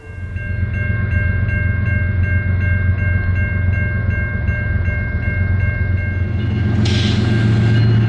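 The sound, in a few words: BNSF freight train carrying Boeing 737 fuselages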